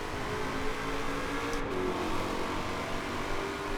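A 2020 Shelby GT500 engine in a tunnel in the Forza Horizon 4 video game, a dense, steady roar that echoes under the roof and holds throughout.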